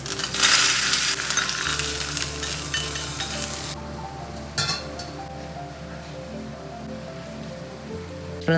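Mustard seeds crackle and sizzle as they fry in hot oil for tempering, a dense steady hiss with occasional pops and a brief clink of a utensil, close and alone without talk.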